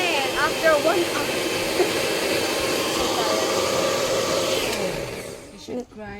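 An electric mixer runs continuously, whipping cream for a birthday cake, a steady loud whirring drone that fades at the end, with voices talking over it.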